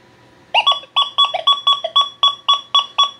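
An XP Deus II metal detector sounds a target signal: about ten short, bright electronic beeps in a quick, steady rhythm, fairly loud and close, over quiet background.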